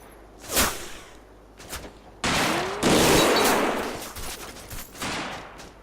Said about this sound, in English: The rate of fire on that MG42 is insane.